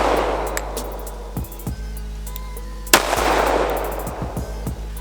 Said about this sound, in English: Two shots out of the 45